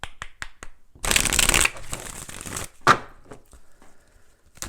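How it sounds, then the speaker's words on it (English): A tarot deck is shuffled by hand up close: a loud burst of riffling card noise, then softer flicks and a sharp snap, with scattered card taps before and after. No one talks. "let's go ahead and do 4 shuffles and really pull the energy"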